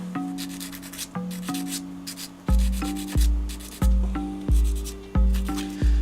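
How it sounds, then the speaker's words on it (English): The gate is cleaned off a small photo etch part for a 1/32 HK Models Lancaster kit with a sander or file. The rasping strokes come in a regular rhythm, close and clear, and no one speaks. "I clean off the gate with my sander or file"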